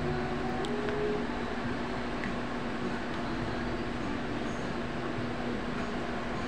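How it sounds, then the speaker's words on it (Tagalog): A repaired electric fan with aluminium motor windings, cleaned after losing power, runs steadily with a constant hum and a fine whirring tone, close and unbroken with no talk. "So sa testing natin, mukhang okay pa naman yung ikot niya, malakas pa."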